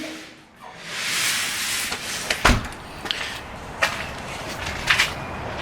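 A house door opens and closes as someone steps outside, with a sharp thump, a few scattered knocks and footsteps over soft outdoor background noise.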